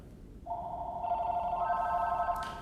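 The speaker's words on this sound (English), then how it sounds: "That's the phone." A telephone rings indoors with a steady electronic tone that starts abruptly and holds loud and continuous until a brief click at the end.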